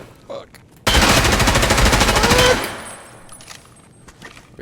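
A machine gun with a 100-round magazine in Escape From Tarkov unloads a long rapid burst of close, loud gunfire lasting under two seconds, followed by fading echo and quieter ambient game sounds.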